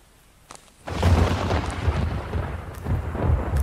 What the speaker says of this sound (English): Thunder got me.